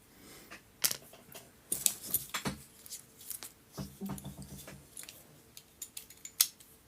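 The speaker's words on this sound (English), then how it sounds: "What I want now is just a little bit of bamboo stick. I'm just going to cut a piece off." Scissors snip a short piece off a bamboo stick at a model-making bench, a handful of sharp, close cutting clicks spread irregularly across a quiet room.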